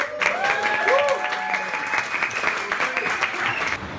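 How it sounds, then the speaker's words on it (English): A comedy club crowd at a London pub venue claps and cheers for a comedian taking the stage, sustained applause with a voice speaking over it. "Will everybody get open and clapping for the wonderful Richard Parr"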